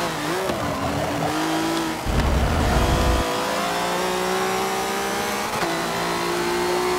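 Car engine revving in the Forza Motorsport 7 racing game, a Volvo, with steady harmonic tones that climb and shift through gear changes, plus a louder, rougher low burst around the middle. It is loud and continuous, with no talk.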